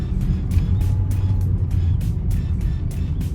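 A car descending a hill in low gear on a road near a Thai temple, engine drone steady and close throughout, with periodic faint ticking over the continuous low rumble.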